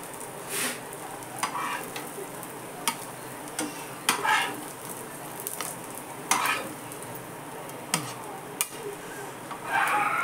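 Sweet corn cutlets frying in a pan, giving a steady close sizzle broken by several sharp ticks and scrapes as they are moved, with no talking.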